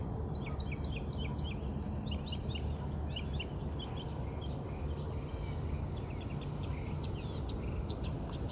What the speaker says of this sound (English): We have more ducks.